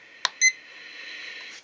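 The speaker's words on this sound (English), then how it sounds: "so I won't hear a beep constantly" A temperature and humidity monitor sounds a short electronic alert beep, set for low humidity: one click-like tap, then a bright double-toned beep, fading into a steady faint hum with no talk.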